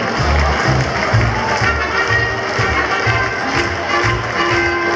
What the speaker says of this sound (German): Ein großer Applaus für die Nahada München!